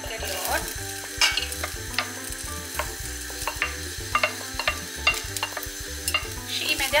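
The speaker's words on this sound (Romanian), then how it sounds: "odată ce oala s-a încins, voi adăuga morcovul și ceapa pe care le-am tocat anterior." Carrot and onion frying in hot oil in a pot, a steady loud sizzle with stirring scrapes and clinks throughout, no voices.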